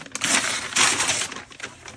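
A brown paper grocery bag is torn up by hand for fire kindling. Loud, close ripping and crinkling comes in two or three bursts of rustle with no voices.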